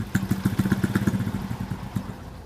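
A Peace GS 35 Chinese chopper motorcycle idles close by, its engine putting out a steady, slightly uneven low chug with a clattery edge throughout.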